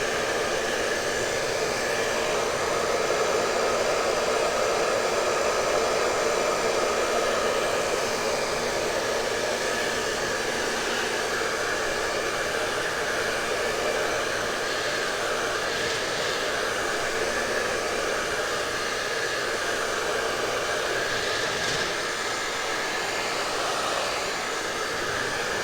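A hair dryer blows steadily and loudly for the whole stretch, a continuous whooshing hum used to dry tape on a Christmas tree craft project, with no voices over it.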